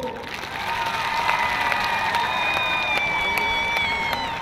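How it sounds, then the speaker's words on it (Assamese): A crowd claps steadily throughout, dense and sustained applause with some cheering mixed in, while a faint tone hums along beneath it. "মই সকলোকে একেলগতে হাত তালি বজাবৰ কাৰণে অনুৰোধ কৰিছোঁ"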